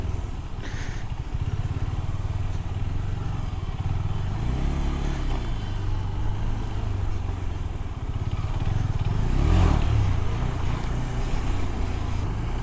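A KTM 390 motorcycle rides off-road over stones, its engine droning steadily and close with rising and falling revs, and a brief surge near the end with rattling from the rough ground.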